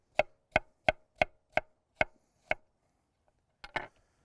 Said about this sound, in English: We're gonna slice up some radishes here.